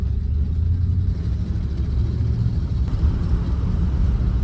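A 1954 Chrysler Imperial limousine engine, long left sitting, runs with a deep, steady low rumble, loud and close, holding a sustained drone throughout with no talking.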